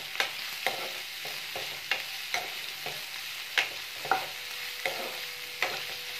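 Macaroni frying in oil in a pan, with a spoon scraping and stirring it at a steady, regular pace over a soft, low sizzle; quiet and close, with no voices.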